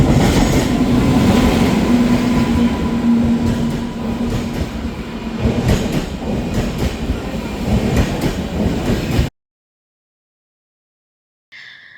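Train on a journey to Bangalore, a loud continuous rumble with rhythmic clatter of wheels on rails for about nine seconds, then a sudden cut to silence and a brief faint sound at the end.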